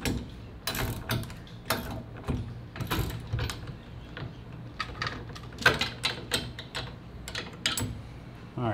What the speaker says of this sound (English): the ratchet you're gonna use on the back side of the trailer, like so.